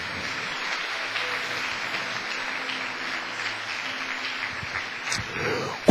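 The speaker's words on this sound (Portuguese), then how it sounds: "Uma salva de palmas para o Senhor Jesus." A church congregation claps in praise, a sustained, even round of applause across the hall that holds steady for several seconds with a slight lift near the end, no talking over it.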